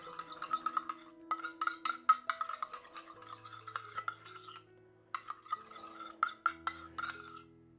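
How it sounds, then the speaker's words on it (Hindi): A spoon stirring aloe vera gel into a paste in a small bowl, producing quick, close, rhythmic clicking and scraping strokes in bursts, with short pauses between rounds of mixing. "बस थोड़ा सा इसको मिक्स कर दीजिए इस तरह से।"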